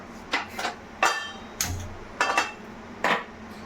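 Pan placed on a stove for an omelette, several sharp metallic knocks and clatters close by, spaced irregularly over a low hum.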